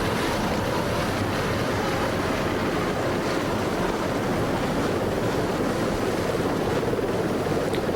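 Offshore racing powerboats roar across open water at the 1988 Holiday Isle race in the Florida Keys, a continuous dense, loud wash of engine and hull noise mixed with wind and spray, with no talking.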